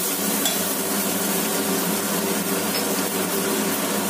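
Chopped tomato frying with onion and green chilli in a pan, a continuous loud sizzle with steady stirring throughout and no talking.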